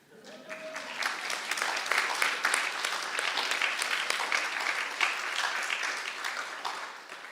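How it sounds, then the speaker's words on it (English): An audience at an initiation ceremony at Bhaktivedanta Manor breaks into sustained applause. The clapping swells quickly and stays dense and even for several seconds before tapering off. "You might as well applaud."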